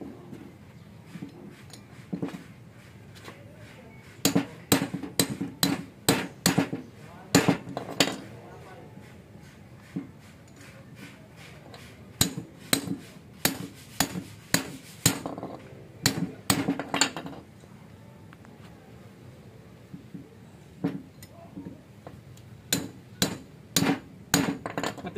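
A hammer strikes a 4BC2 steering pump during repair, sharp metallic blows arriving in irregular clusters of rapid hits separated by pauses, close and loud, with people talking quietly in between.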